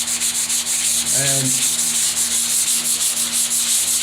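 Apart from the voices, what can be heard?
sanding wall with sanding block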